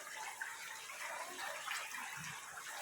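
Water trickles and splashes steadily at Khlong Hin Dam, a waterfall in Sawi, Chumphon, a soft continuous gush heard faintly from nearby with no talking.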